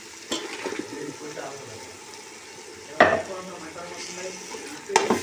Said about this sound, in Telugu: చిన్నపాయ కూడా కొంచెం ఫ్రై అయిందండి